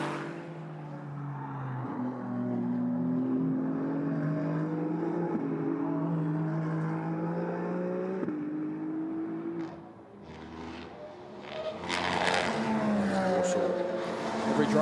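Ferrari Challenge race cars accelerate uphill at Spa-Francorchamps during qualifying, their engines rising steadily in pitch as they rev hard. The loud, continuous roar is close, then dips briefly before another car surges in.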